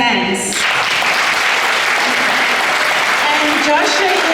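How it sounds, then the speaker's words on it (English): An audience at a Youth Day celebration bursts into applause, a dense sustained clatter of many hands after a voice speaks briefly at the start. "So this is Joshua, everybody. We can clap hands."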